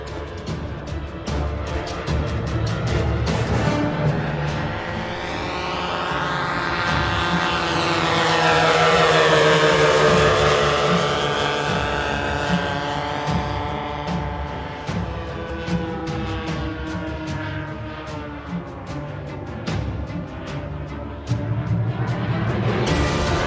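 An 81-inch twin-engine Mosquito PR.XVI model aircraft flies past, its propeller engines droning steadily, swelling louder as it nears mid-pass and then fading away, with no voices.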